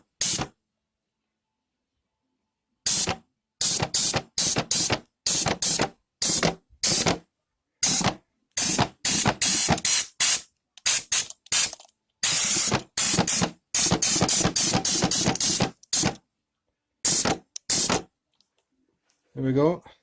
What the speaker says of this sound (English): Give it another wee spray before, so I don't waste the paint.